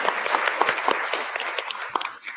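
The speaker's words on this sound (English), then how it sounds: "Come on, give them a round of applause." A crowd claps for the List Detroit team at a Pancakes & Politics gathering, dense applause sustained close by throughout with a few sharper individual claps standing out.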